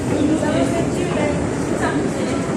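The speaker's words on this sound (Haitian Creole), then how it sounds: "Hein, nous dans le métro." Inside a metro subway train, a steady low rumble and hum of the carriage in motion carries on beneath people talking nearby.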